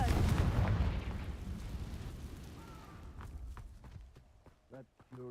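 A Confringo fire spell cast in Hogwarts Legacy bursts with a loud, rumbling blast that fades over a second or two, followed by quieter game sounds and a voice speaking.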